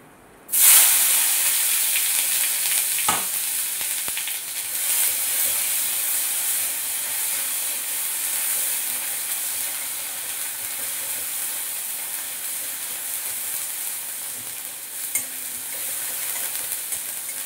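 Chopped tomato hits a pan of cumin seed tempering with a sudden loud sizzle that settles into a steady, close frying hiss, with an occasional stir or scrape of the spatula.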